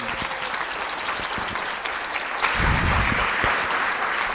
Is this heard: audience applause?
yes